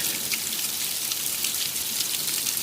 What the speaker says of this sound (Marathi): जोरदार पाऊस असा चालू झालेला आहे.